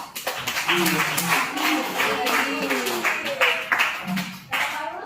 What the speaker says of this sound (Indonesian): Terima kasih aplaus untuk Pak.